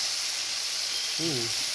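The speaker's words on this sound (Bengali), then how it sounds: "এখানে পুর ভাজা হচ্ছে।" Stuffing with black sesame sizzles while frying in a pan, a steady close hiss throughout, with a brief voice sounding near the end.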